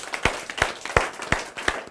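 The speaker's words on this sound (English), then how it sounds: "let's clap for ourselves." Five sharp claps ring out at an even, unhurried rhythm, fairly close and distinct, with no other sound around them.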